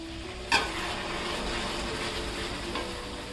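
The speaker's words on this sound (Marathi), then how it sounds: "गरम केलेलं थोडं थोडं दूध घालूया आता आपण" Hot milk poured into roasted semolina and banana in a pan sets off a steady, loud sizzle with a sharp burst at the start, heard up close without talk.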